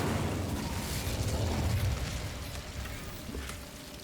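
Incendio fire spell cast in Hogwarts Legacy, a dense rushing burst of flame with a low rumbling roar that tapers over a few seconds, with smaller crackling pops afterward.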